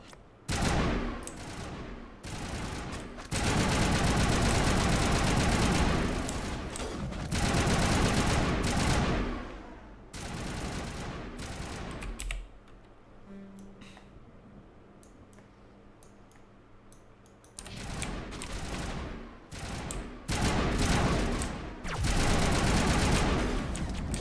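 Sustained crossfire in the sci-fi shooter game Mass Effect Legendary Edition, dense rapid automatic bursts that roar in long loud stretches, ease into a quieter lull with distant pops, then surge back again.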